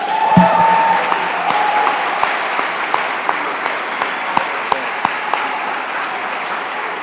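A church congregation claps in a loud, sustained burst, with scattered sharper individual claps standing out as the applause thins toward the end.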